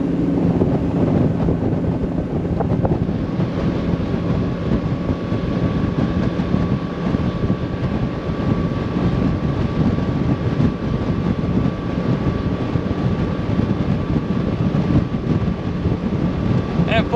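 Starcraft CX 23 DL deck boat running at full throttle at a little over 40 mph, giving a loud, steady engine drone with rushing wind and water noise that holds continuously throughout.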